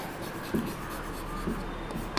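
Chalk or marker writing on a board in a maths class, soft scratchy strokes with a few sharper taps, close and fairly quiet, with no voices.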